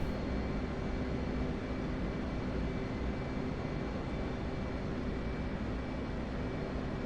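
Steady broadband jet roar of an F/A-18 Hornet in DCS World, heard from the cockpit as a constant, even drone with a faint high whine, no talk over it.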